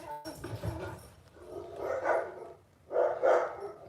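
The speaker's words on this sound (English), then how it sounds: "What are you growling about, dog?" A dog growls and barks in short loud bursts in an indoor setting, with a few separate outbursts and quieter stretches between them.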